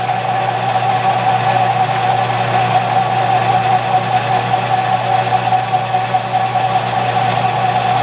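A lathe cutting metal with a taper attachment, the tool chattering in a continuous loud steady drone with a sustained ringing tone over a low hum, with no talk.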